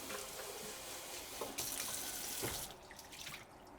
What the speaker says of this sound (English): and then we'll give it a good rinse one time.